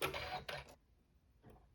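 A sewing machine stitches a tack-down seam in neutral thread on fabric strips for a tablet sleeve, with two bursts of close, fairly loud whirring separated by a short pause, then a faint brief run near the end.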